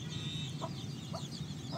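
Country chickens in a farm room give soft, short clucks at intervals over a steady low hum, close and quiet with no voices.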